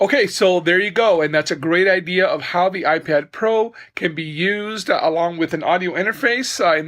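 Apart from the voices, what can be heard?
None of the usual background noises is heard.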